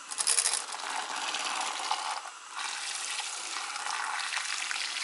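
Electric hand mixer with a whisk attachment whirring steadily through a bowl, a loud, continuous buzzy drone with a brief dip midway before resuming.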